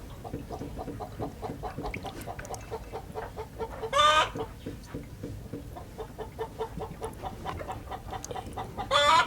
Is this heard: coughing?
no